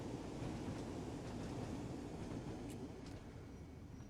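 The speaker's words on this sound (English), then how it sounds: "The sounds of those cars rolling was fantastic." A steady, dense rumble of train cars rolling along the rails in the video game Train Sim World, continuous and fairly loud, with faint rhythmic clatter beneath a broad wash of noise.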